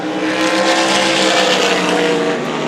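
Pavement sprint cars racing at Irwindale during a quick six-lap heat race, a loud continuous high-pitched roar of engines at full throttle filling the air with no pauses.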